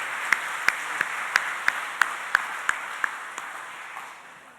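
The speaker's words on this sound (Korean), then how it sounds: "우리 감사의 마음을 담아 감사의 박수를 힘차게 올려드렸으면 좋겠습니다" A church congregation at a Sunday service at Gwangju Dail Church claps together in a strong, steady rhythm of sharp beats over a broad wash of hands. The clapping gradually softens and fades toward the end.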